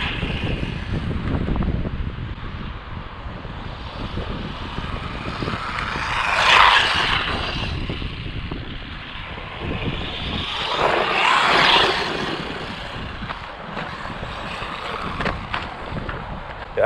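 A JJRC Q39 cheap off-road RC truck drives over rough ground, giving a steady whirring motor drone with wind buffeting the microphone and two louder swelling passes along the way.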